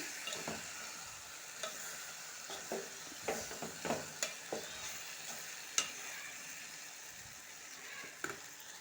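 A potato and tomato curry with chili powder is stirred in oil, giving a soft, fairly faint sizzle with intermittent spatula scrapes and taps against the pan.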